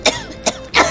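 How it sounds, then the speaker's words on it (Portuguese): Three short, sharp coughs from the Chinese drama Love Like the Galaxy, spaced about half a second apart, loud and close with brief rasping bursts. "Virou uma disputa de tosse."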